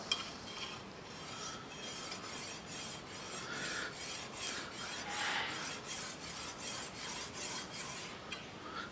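A pocket stone drawn gently along the edge of a machete card scraper to remove the wire edge left by a file, giving close, rhythmic rasping strokes, about a dozen evenly paced passes, with no talking.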